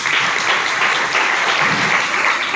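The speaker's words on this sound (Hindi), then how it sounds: "तालियां।" A college audience bursts into dense, sustained applause at a women's empowerment event, loud and steady throughout with no pauses.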